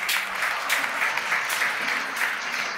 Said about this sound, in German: Ich habe gehört, Applaus.